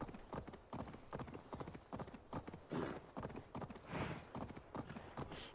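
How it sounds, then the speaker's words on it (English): Horse hooves clip-clop at a steady trot in Assassin's Creed Valhalla, a regular rhythm of close, distinct hoofbeats with no other sound. "I'm on my horse here."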